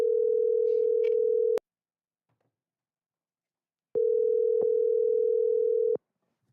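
A phone line gives a ringback tone: a steady, loud, single-pitched tone sounds, cuts out for a couple of seconds of silence, then sounds again, with faint clicks at the edges.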